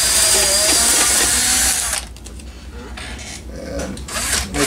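A power drill bores into the styrofoam of a Carl Goldberg Eagle 2 seaplane float, a loud, dense whine for about two seconds that cuts off sharply, leaving quieter scraping and handling noise.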